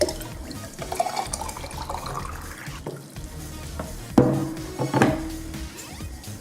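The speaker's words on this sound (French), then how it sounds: "Donc l'eau est rajoutée." Water pours into a homemade lava lamp bottle, a gurgling, splashing fill rising in pitch, with a couple of louder glugging surges near the end and no talk.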